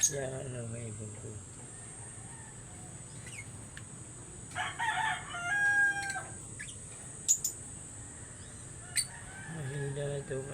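Pet African birds in a backyard enclosure give scattered calls and short squawks in brief bursts, with someone talking over them for much of the stretch.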